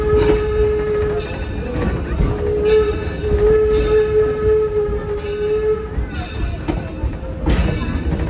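Torch Lake heritage train running on an autumn excursion, a steady rumble of railcars with sustained whistle or horn tones and wheel squeal, heard up close from aboard.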